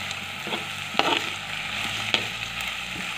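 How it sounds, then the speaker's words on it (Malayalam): Green tomatoes fry in a pan for a fish curry, a close, steady sizzle with two sharp stirring clinks of a spoon against the pan. "ഇതിന് ശേഷം പച്ചത്തക്കാളിക്ക് ആദ്യം ഇട്ട് കൊടുക്കാം പച്ചത്തക്കാളിക്ക് നന്നായിട്ട് വാടണം"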